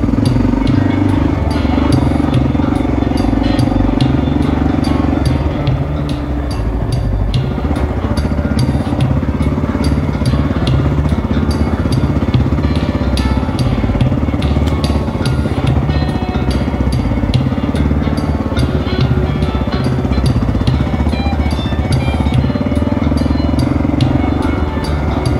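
A motorcycle engine runs steadily in second gear at Sugar Pine, a loud, continuous mid-pitched drone with rattling clatter and wind rush, holding nearly constant for the whole stretch.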